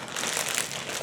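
Plastic packaging wrapped around a large orthopedic gel memory foam dog bed crinkles and crackles steadily as it is cut open, a close, continuous rustle with no talking.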